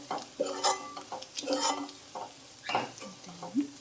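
Pan contents frying with fresh coriander before fish goes in, a soft sizzle under repeated stirring scrapes and clinks of a metal spoon against the pan, no voices.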